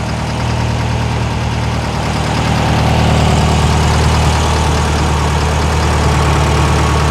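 A 1973 VW Thing engine idles steadily after a fuel system install, a continuous low rumble with a slight rough knock, loud and close with no voices over it.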